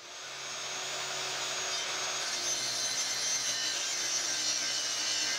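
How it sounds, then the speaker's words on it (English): A power saw with its blade set to 45 degrees grinds steadily through plywood, a loud whining rasp that builds in the first second and then holds even, with no voices. "I started by cutting a piece of plywood with my blade set to 45 degrees"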